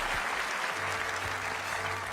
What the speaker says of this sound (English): better applaud for that.